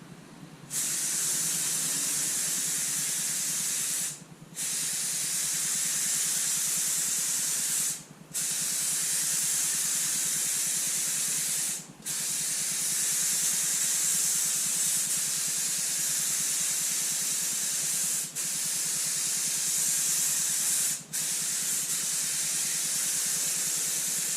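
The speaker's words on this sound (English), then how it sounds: "This is a high volume, low pressure gun, so it doesn't create as much overspray as a normal spray gun." An HVLP spray gun hisses in long, steady bursts of paint spraying on a Fordson Major tractor panel, each lasting several seconds and separated by brief pauses, close and loud.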